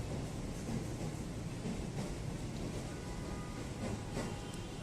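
A commuter train in Jakarta rumbles along steadily, a deep continuous roar with faint rhythmic clatter, heard from on board with no talking.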